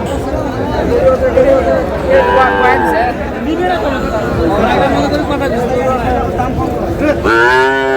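Sahiwal breed bull calves lowing repeatedly at a busy cattle market, loud moos rising over constant crowd chatter and nearby voices throughout.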